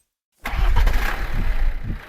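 A cargo airship engine in Minecraft starts abruptly after a brief silence, then settles into a chugging, tractor-like idle with a few uneven pulses, close and fairly loud.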